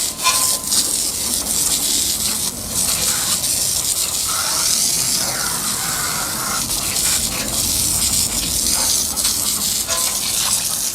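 A car wheel is rinsed with a water spray, a loud, continuous hissing gush that stays close and steady throughout, with brief flickers of splashing.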